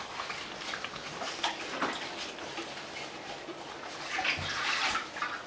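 Water poured and splashed while a saucepan is rinsed during home cooking of tuo zaafi and stew, a steady close rushing and spattering that swells louder toward the end.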